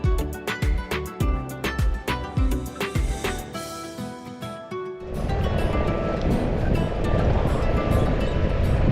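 Waves on a lonely sea beach at Chilika, Odisha: a rhythmic musical passage gives way to a loud, steady rush of surf and wind that fills the last few seconds.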